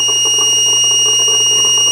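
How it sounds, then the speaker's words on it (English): A multimeter set to resistance gives a steady continuity beep while checking its leads on an Ioniq 5, a constant electronic tone lasting the whole moment with faint background hum. "Let me try to select it with beeping sound."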